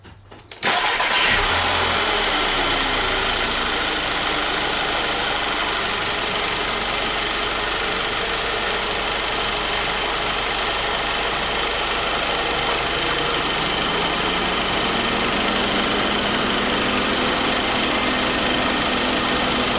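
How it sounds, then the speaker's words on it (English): A VW Passat 2.0 TSI engine starts up and settles into a steady, loud idle that runs on continuously, with no voices. "After running the engine for a few minutes"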